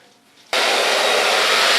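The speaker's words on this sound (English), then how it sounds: "Gonna blow dry it with a new hairdryer" After a brief quiet moment, a hair dryer switches on abruptly and blows with a loud, steady rushing whoosh.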